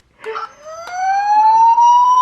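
Toy police car siren wailing in a rising electronic tone that climbs and then holds steady, loud and close, with a brief click partway through and no talking over it.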